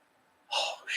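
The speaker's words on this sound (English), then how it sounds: "I'm going to sneeze." A single sudden half-suppressed human sneeze, a sharp breathy burst after a quiet moment followed by a second short puff of air, close and moderately loud.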